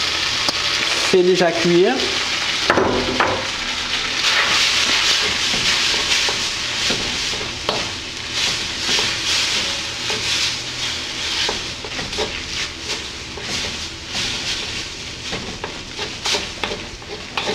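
Cooked noodles go into a hot pan with shrimp, setting off a loud, close, continuous sizzle with hissing steam and intermittent scraping stirs; a voice speaks briefly near the start.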